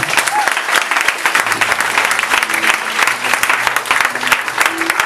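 Church congregation applauding in acclaim, a loud, dense patter of many hands clapping continuously, with voices calling out underneath.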